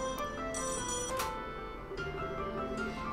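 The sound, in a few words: telephone ringing in video game Trails in the Sky the 3rd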